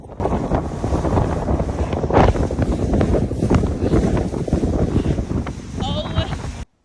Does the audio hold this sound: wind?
yes